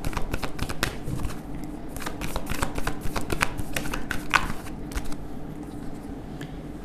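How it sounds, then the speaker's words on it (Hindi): Tarot cards are shuffled by hand with a steady, close run of crisp riffling and flicking that carries on without pause, and no voice is heard over it. "करंट एनर्जी में हम लेंगे 5 कार्ड और देखेंगे क्या एनर्जीज़ हैं आपके पर्सन की इस वक्त।"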